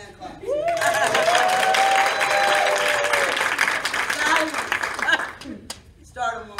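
An audience applauds at a parent mentoring recognition awards ceremony: sustained, full clapping builds quickly and holds for about five seconds before thinning out, with voices rising over it.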